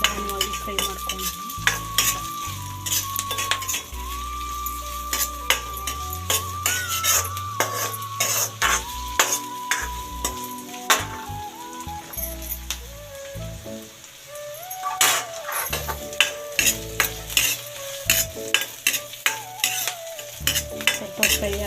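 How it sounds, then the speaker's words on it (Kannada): Onions frying slowly in a pot on a low flame for green chicken sambar, a soft sizzle beneath frequent loud utensil scrapes and clanks against the metal, with musical tones running through. "ಈರುಳ್ಳಿ, ಫ್ರೈ ಮಾಡ್ಕೊಂಡು ಲೋ ಫ್ಲೇಮಲ್ಲೇ ಇಟ್ಕೊಂಡು ನಿಧಾನವಾಗಿ ಫ್ರೈ ಮಾಡ್ಕೊಂಡು"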